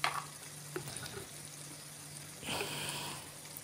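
Chicken cooks in hot oil in a pan with chili powder added, giving a low, steady sizzle with a few soft stirring clinks and a brighter burst of frying near the end.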